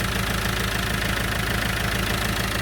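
An Iveco Daily fridge van's diesel engine idles steadily after its first start in ten months, a loud, even knocking rumble with a ticking exhaust leak, close and continuous with no talk.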